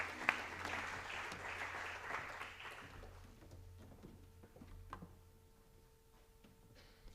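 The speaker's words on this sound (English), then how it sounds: "So please, a warm applause." Applause at an academic talk on planetary health, a moderate burst of clapping for about three seconds that thins to a few scattered claps, with faint room hum beneath.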